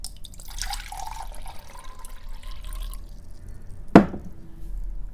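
PH-balanced water, left standing for hours to let chlorine evaporate, is poured into a container for growing peppers, giving a soft trickling and dripping with one sharp splash near the end, alone with no talk.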